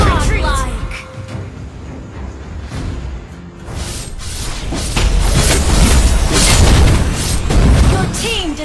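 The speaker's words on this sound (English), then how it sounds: "Your team destroyed a turret!" A turret is destroyed in the Mobile Legends mobile game, giving deep booming blasts and whooshing bursts layered with game effects and announcer voice lines, loud and continuous and swelling toward the end.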